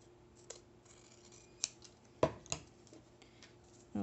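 Scissors cutting excess paper off a Stamperia Arctic Antarctic craft album page: a few quiet, close snips spaced apart, one sharper cut standing out, with no talking.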